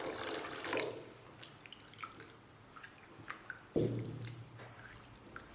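Fish scales are rinsed by hand in clear water in a kitchen bowl, with close, intermittent splashes, swishes and drips, a few louder sloshes standing out against a quiet background.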